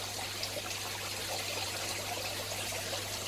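Water trickles steadily into an aquarium tank, a faint, continuous splashing flow with a low hum beneath it.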